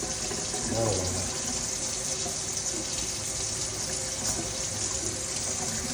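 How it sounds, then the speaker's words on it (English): Warm water runs steadily from a tap, a continuous even splashing stream with no talk over it. "what I'm doing right now is just getting some warm water going"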